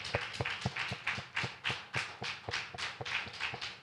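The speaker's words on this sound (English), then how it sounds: "Y'all give Pastor Lenore a hand clap" A church congregation claps for Pastor Lenore during a Sabbath forum, a dense run of sharp, fairly close handclaps at a quick, slightly uneven rhythm, with no talking over it.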